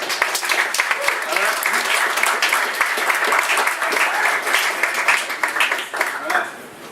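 At a comedy night in a Montreal hostel, the crowd applauds comedian Geoff Walliner with loud, dense clapping that holds for several seconds, then eases slightly near the end.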